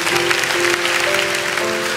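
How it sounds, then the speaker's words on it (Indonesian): A church congregation applauds during a sermon, a dense, even roar of clapping hands that holds steady for two seconds, with a sustained instrumental tone underneath. "Amin, kasih tepuk tangan untuk Tuhan."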